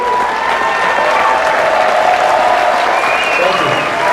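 A concert audience at a tribute show breaks into loud, sustained applause and cheering, a dense wash of clapping from a large crowd that carries on steadily throughout.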